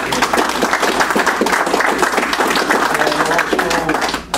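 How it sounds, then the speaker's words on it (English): Applause from the members at a St. Louis rocketry club retirement party, a dense, steady clatter of many hands filling the room for about four seconds before tapering off. "a round of applause for the membership"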